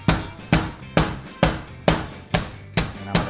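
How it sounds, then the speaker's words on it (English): A chef lightly pounds pork with a hammer, giving eight evenly spaced sharp thuds about half a second apart, close and clear with no talking. "I'm going to start pounding the pork"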